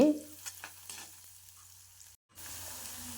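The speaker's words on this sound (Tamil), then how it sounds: "இப்போது மஞ்சத்தூளை வந்து நல்லா வந்து எண்ணெயிலேயே நல்லா வந்து வணக்கி விட்டுக்கலாங்க" Oil sizzles and crackles steadily in a pan as turmeric sautés, with a few stirring scrapes near the start and a brief drop to near silence before it resumes.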